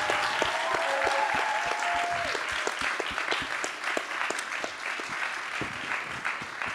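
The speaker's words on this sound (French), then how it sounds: "je pense qu'on peut même applaudir, je dirais, l'équipe technique et l'équipe du festival" An audience in a festival hall applauds the festival and technical teams, a moderately loud, steady patter of clapping with individual claps audible, while a voice briefly speaks early on and the clapping slowly thins.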